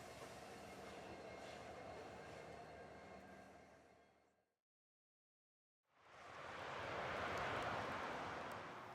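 Union Pacific Big Boy 4014 steam locomotive train leaving Evanston in snowy May weather, a broad rumbling roar that fades away, drops to near silence for over a second, then swells back up louder, distant and without talk.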